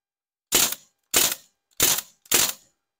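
Four sharp, hissing pops from a CO2 MP40 air pistol fire in a steady sequence, each a quick burst with a short decay, with silence between shots.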